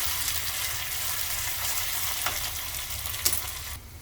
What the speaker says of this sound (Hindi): जैसे ही तेल गर्म होता है ये पेस्ट इसमें डाल देंगे